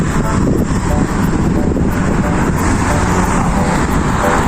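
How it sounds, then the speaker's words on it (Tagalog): Rush-hour traffic on a busy street forms a loud, continuous roar of passing cars and engines, dense and steady throughout with no clear gaps or voices. "Ayan, tutuloy ng mga sasakyan dito"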